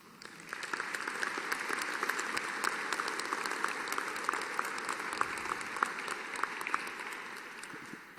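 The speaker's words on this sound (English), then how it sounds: "I'm really appreciating this clapping" An audience claps steadily at a college presidential inauguration speech, a dense, sustained round of many hands applauding continuously from start to finish.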